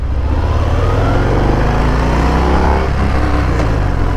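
A Harley-Davidson Fat Bob with an 1800cc engine pulls away, its loud, close engine note rising steadily as it accelerates, with no voices over it.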